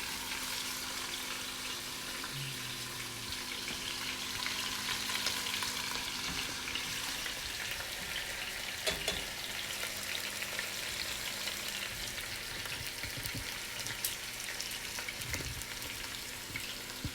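Chicken for a Puerto Rican chicken stew browns in a pot with a soft, steady sizzle and faint crackle, a few clinks and stirring bumps over the continuous frying hiss.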